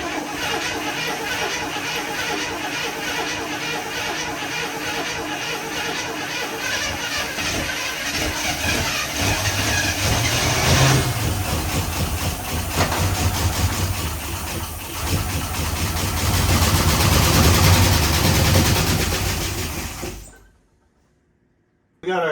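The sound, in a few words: International Travelall engine running on temporary fuel system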